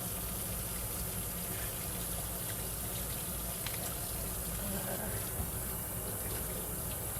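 Hot water runs steadily from a kitchen tap, a dense continuous rushing gush that holds an even level for the whole stretch, close and fairly loud with no talking over it.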